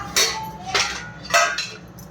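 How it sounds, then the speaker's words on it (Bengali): A metal plate is set over a cooking pot holding a fish and taro curry, giving three sharp metallic clinks and scrapes about half a second apart, close and fairly loud. "আবার একটু ঢেকে দিলাম এই যে থালা দিয়ে।"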